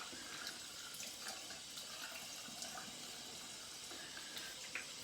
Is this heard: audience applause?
no